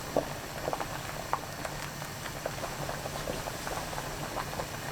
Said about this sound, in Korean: 파 넣고 2분 끓입니다.